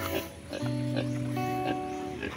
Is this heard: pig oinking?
yes